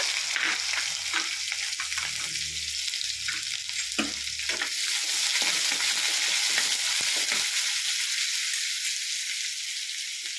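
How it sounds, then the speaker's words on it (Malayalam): Grated coconut sautéed in a pan for a Kerala jackfruit-seed chicken curry, a steady broadband sizzle with scraping stir strokes through the first half, close and fairly loud, with no talk. "നമുക്ക് ആദ്യം തേങ്ങ വഴറ്റിയെടുക്കാം"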